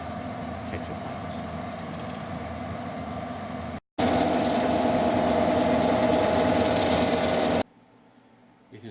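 A raspberry harvesting machine's engine idles and chugs in a steady mid-pitched drone, briefly cutting out, then returning louder and nearer before dropping off sharply, with talking under it.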